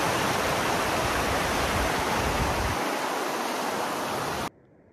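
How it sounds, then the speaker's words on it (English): A small mountain river on the Tour du Mont Blanc rushes steadily nearby as a loud, even wash of flowing water, then cuts off abruptly near the end. "Little river."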